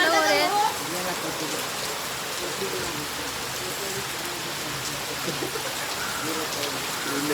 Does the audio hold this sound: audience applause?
no